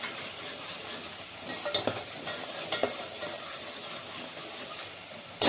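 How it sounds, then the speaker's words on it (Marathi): Paste of coconut, sesame and poppy seeds sautéing in a pan, a steady close sizzle with a few scraping stirs and spoon knocks, no voices. "पेस्ट थोडीशी परतून घेऊ आपण।"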